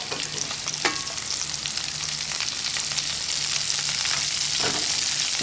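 Potatoes and asparagus frying in a cast iron skillet at a campsite, a steady, loud, close sizzle with a couple of brief clinks or stirs.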